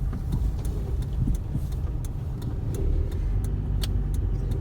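A car driving along a street in autumn in the town of Liuboml, heard from inside as a steady low engine and road rumble with faint rattles and clicks.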